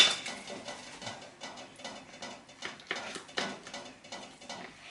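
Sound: removing plastic cling film from a dessert

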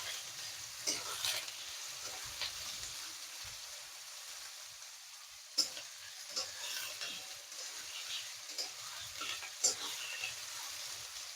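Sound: frying chopped carrots and beans

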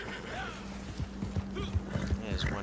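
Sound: horse hooves and neighing in a video game

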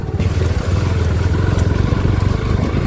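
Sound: motorcycle riding on a rough road

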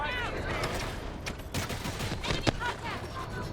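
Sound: gunfire in the video game Delta Force

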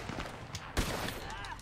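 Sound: gunfire in Red Dead Online video game

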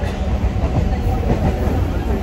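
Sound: train passing

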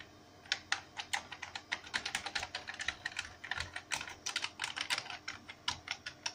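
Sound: typing on a miniature IBM PC/AT 286 keyboard during keyboard test

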